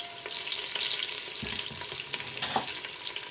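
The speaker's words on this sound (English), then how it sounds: "Now in the same oil I will fry the onions." Onions frying in hot oil with bay leaves, a steady bright sizzle throughout with a couple of soft thuds and stirring sounds, no talking.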